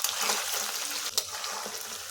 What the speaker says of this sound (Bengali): পনিরগুলো উল্টে পাল্টে ভেজে নিচ্ছি।